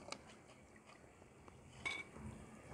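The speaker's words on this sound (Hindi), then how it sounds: "ये देखिए माशाल्लाह कितने खस्ता बने आप आवाज़ सुन सकते हैं" Faint crisp crackling and a few light clinks of crispy fried Bengali murali sweets being handled and broken, quiet and close with scattered sharp snaps.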